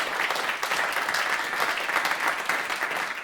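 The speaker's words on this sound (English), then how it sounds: "So let's give a round of applause to all the folks who put in time on this." Audience at a convention intro applauds the event's volunteers, a steady, dense wash of clapping hands from a crowd, sustained evenly throughout without speech.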